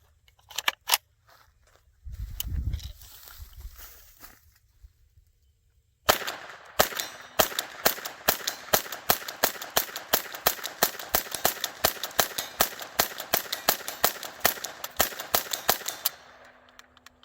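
Rapid string of sharp shots from a Smith & Wesson M&P 15-22P .22 rifle, about two dozen cracks fired at a fast steady pace close to the microphone, preceded by a few scattered pops and a brief low rumble.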